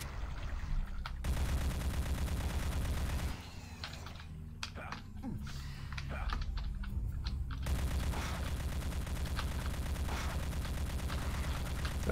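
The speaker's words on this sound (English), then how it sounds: "You're shooting below me." Video game gunfire in bursts of shots over a steady low rumble of game noise, with a quieter gap midway before the firing resumes and continues to the end.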